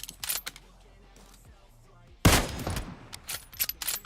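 Gunfire in a sniping video game with a Kar98k rifle: one sharp, loud shot crack with a trailing echo, surrounded by scattered fainter clicks and game effects.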